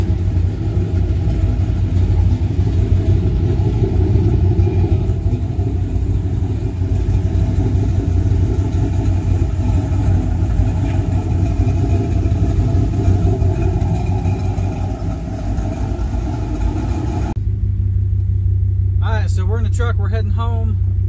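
Ram pickup with a 5.7 Hemi V8 and Thrush Rattler mufflers mounted just behind the tips, a deep steady exhaust drone while driving, loud and continuous, then cutting abruptly to quiet near the end where a voice speaks.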